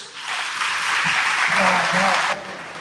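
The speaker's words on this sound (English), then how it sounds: "Why don't we give our round of applause?" Audience applause welcoming a speaker to the stage at a luncheon, a dense, steady wash of many hands clapping that swells and then drops off abruptly near the end.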